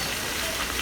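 Meat (gosht) frying in a pan for a Karachi biryani, a steady dense sizzle with no talk over it.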